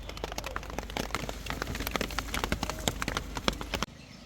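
Heavy rain in a hillside farming area near Kodaikanal pours onto surfaces with dense, close patter and sharp individual drips throughout, then cuts off abruptly near the end.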